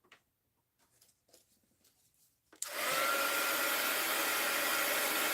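A hair dryer switches on after a few seconds of quiet small handling noises, then blows a steady, loud, close whooshing roar over an art journal page.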